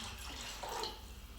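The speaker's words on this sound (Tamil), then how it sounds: "தண்ணி விடலாங்க." About two liters of water poured into a pot for crab soup, a short, close, continuous splashing stream that swells briefly midway.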